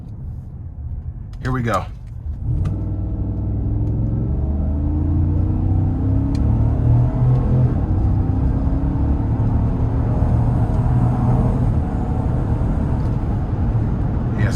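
A 2017 Cadillac Escalade Platinum with a 6.2 V8 accelerates up an interstate on-ramp, a deep engine drone rising steadily in pitch from inside the cabin, with a brief spoken remark near the start.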